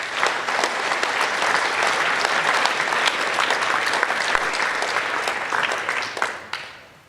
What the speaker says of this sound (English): So could we have a round of applause for them?